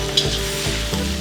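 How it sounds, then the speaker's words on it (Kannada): Drumsticks, potatoes and onion fry together in a pan for a wedding-style peanut sambar, giving a loud, constant sizzle with stirring scrapes and no voices. "ಈ ನುಗ್ಗೆಕಾಯಿ, ಆಲೂಗಡ್ಡೆ, ಈರುಳ್ಳಿ ಎಲ್ಲ ಚೆನ್ನಾಗಿದು ಫ್ರೈ ಮಾಡಿಕೊಂಡು"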